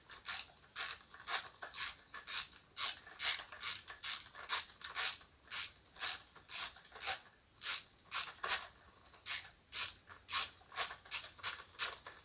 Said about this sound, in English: we'll take our wrench, holding the extension straight so it screws in nice and straight